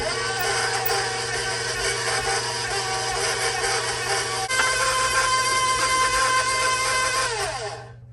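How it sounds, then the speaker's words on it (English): An electric stand mixer whirs steadily while beating gluten-free, sugar-free muffin batter, a constant motor whine at moderate level that shifts pitch partway through and winds down at the end. "So I'm just gonna turn my mixer on until this is just incorporated."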